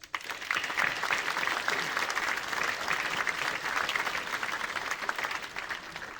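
Sustained applause from an audience at a mayor's New Year greetings ceremony, a dense steady wash of clapping hands that rises quickly and holds at a fairly loud, even level throughout.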